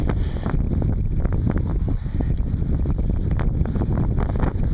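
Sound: strong headwind blowing into the microphone

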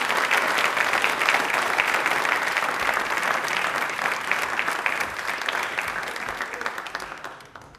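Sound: audience applause

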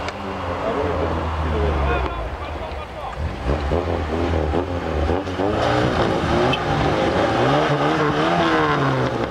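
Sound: UAZ and Niva off-road vehicles driving

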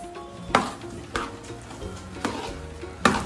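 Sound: stirring grated coconut into Vishu katta mixture in pan

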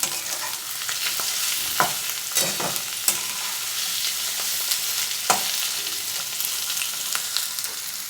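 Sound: stirring ginger and spices frying in a pan

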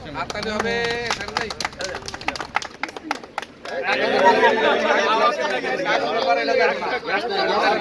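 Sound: crowd applause at picnic opening

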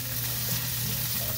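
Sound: garlic and onion sizzling in hot pan

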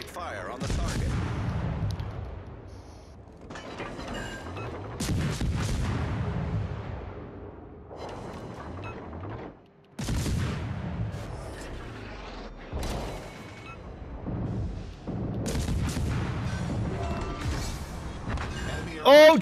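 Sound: naval artillery fire from a warship in a video game

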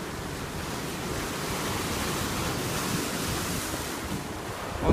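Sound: Pacific Ocean waves

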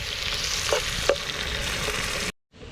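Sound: onion frying in a pan

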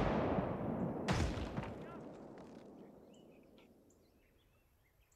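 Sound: American artillery firing a shot in video game Gates of Hell Ostfront

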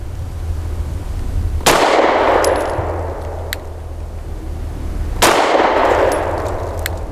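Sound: BUL Armory Axe C Tomahawk pistol shots hitting steel targets

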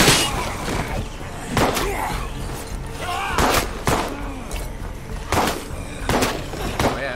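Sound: gunfire in video game State of Decay 2

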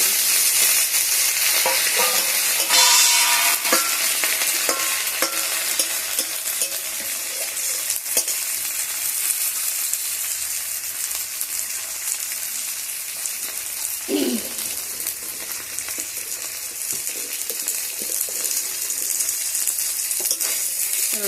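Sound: dried shutki fish frying in a pan

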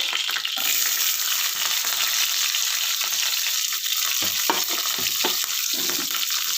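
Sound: shallots and curry leaves frying in oil with mustard seeds

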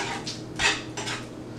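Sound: stirring butter into Chicken Marsala sauce with a stainless steel spoon

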